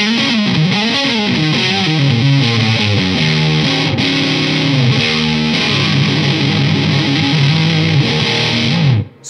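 Electric guitar runs through a Big Top Effects Fuzz Max fuzz pedal, a loud, saturated fuzz tone playing a sustained riff of shifting notes and chords, alone and continuous until it cuts off abruptly at the end.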